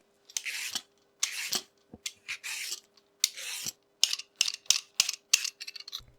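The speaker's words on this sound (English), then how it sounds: "Peel carrots." Carrots being peeled with a peeler, a series of quick dry scraping strokes in short bursts with brief pauses between, close and fairly quiet.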